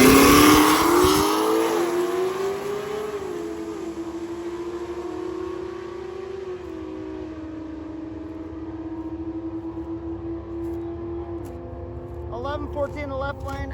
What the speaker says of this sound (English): We got the V6 in the Chevette, nitrous fed, obviously with the purge there.